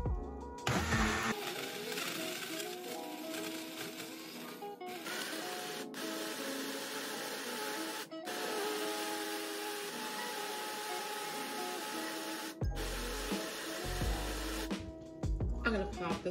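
An upside-down personal blender whirs loudly and steadily for about fifteen seconds as it blends a milk smoothie, with brief dips in the motor noise at the start and near the end.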